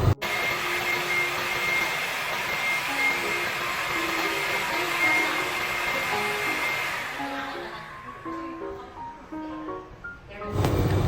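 A vacuum cleaner runs with a loud, steady motor whine and airflow roar for most of the stretch, then the pitch and noise shift and drop toward the end as it cuts out, close and without talk.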